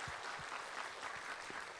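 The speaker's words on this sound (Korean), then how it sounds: "다시 한번 우리 하나님께 영광의 박수 올려드려요" A congregation claps during a Sunday church festival service, a quiet, distant patter of many hands with a few soft low thumps, continuous for a couple of seconds.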